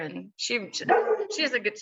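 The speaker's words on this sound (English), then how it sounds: "sorry about my dog" A pet dog gives a few short yipping barks and whines close by, mixed in with someone talking over them.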